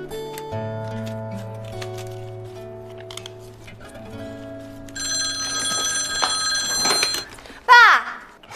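A telephone bell rings in a home, repeated trilling rings that stop abruptly near the end, followed by a brief voice, with some background movement and music earlier.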